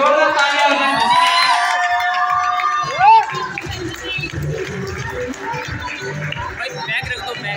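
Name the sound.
audience applause and cheering for prize winner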